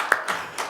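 Brief scattered claps from a church congregation at a New Year worship service, only a few sharp hits spread over a fraction of a second with no voices.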